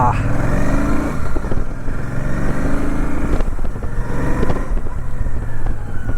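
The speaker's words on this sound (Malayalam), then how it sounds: "എൻജിൻ ഭയങ്കര സ്വീറ്റ് ആയിട്ടുള്ളൊരു എൻജിനാണ്. എനിക്ക് ഭയങ്കരമായിട്ട് ഇഷ്ടപ്പെട്ടു ആ ഒരു എക്സോസ്റ്റ് നോട്ട്" A Royal Enfield Super Meteor 650 motorcycle engine gives a steady, close exhaust rumble with a slight rise in revs, while someone talks over it throughout.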